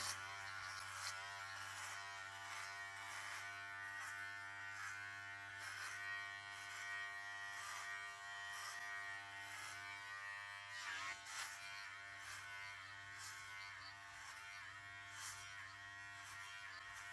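Electric clippers buzz steadily and close up while cutting a head of hair down to a 1/8 inch buzz cut, a continuous hum with small shifts in tone as the blade moves across the scalp.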